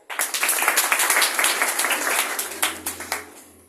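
A group claps in a room during a motivational talk, a burst of dense, rhythmic hand claps that swells, holds fairly loud and thins toward the end.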